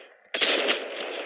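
Gunfire from a weapon in the video game Omega Legends, a sudden loud burst of rapid automatic shots that erupts after a short quiet moment and rings on steadily, close and alone.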